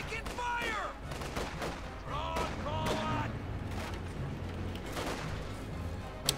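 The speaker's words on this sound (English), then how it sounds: "the 251-17 pummels away there with its 2cm anti-aircraft cannon." Bursts of rapid fire from a 2cm anti-aircraft cannon on a 251/17 halftrack crack repeatedly amid a noisy Company of Heroes 2 battle, with whistling shells and a sharp thump near the end.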